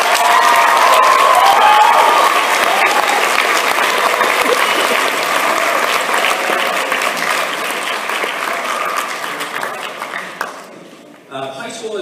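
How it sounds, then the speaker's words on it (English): A concert audience gives a long round of applause for junior high honor band students, loud with some cheering mixed in, tapering off near the end as a voice starts talking. "let's have another round of applause for Kevin Hamilton,"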